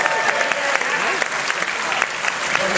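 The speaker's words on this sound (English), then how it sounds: "let's hear it for Rudy" A conference audience applauds after a host introduces a translator, dense steady clapping filling the room at close range with crowd noise and a little talk mixed in.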